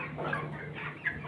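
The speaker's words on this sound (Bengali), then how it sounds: "দেখুন এগুলো আমাদের ব্রয়লার মুরগি।" Broiler chickens about eighteen days old on a poultry farm make soft, overlapping clucks and murmurs with a steady background hum, a short close burst with no speech.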